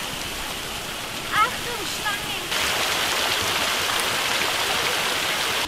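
Waterfall at Lisine, Serbia, about 20 metres high, giving a steady broadband rush of falling water that grows louder partway through, with brief voice sounds early on.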